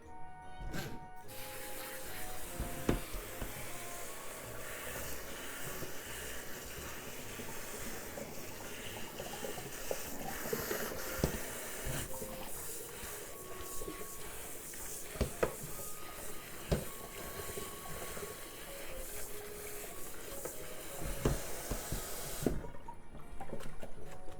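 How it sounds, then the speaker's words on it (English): Tap water runs steadily into a sink for a long stretch, rinsing cooked spinach and bean sprouts, a continuous rushing splash with occasional clinks and shifts in the flow. "And rinse it under running water to stop cooking."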